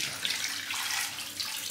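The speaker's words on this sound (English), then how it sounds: "Add enough water to cover." Water pours into a cooking pot of meats for pepper soup in a steady splashing stream, close and fairly loud, with a bright hiss throughout and no talking.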